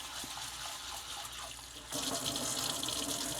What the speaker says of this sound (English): But first, always wash your lentils.